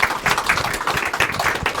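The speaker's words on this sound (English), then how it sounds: "And I think that deserves a round of applause" Audience applause at a film premiere Q&A, a short burst of lively close clapping from a crowd, dense and uneven, with no speech over it.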